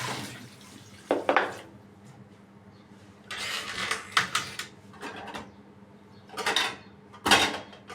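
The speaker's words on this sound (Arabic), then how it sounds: "واحط عليهم ميه واعلق عليهم" Water is poured from a pot over frozen okra, with several short splashing and clattering bursts separated by quieter gaps.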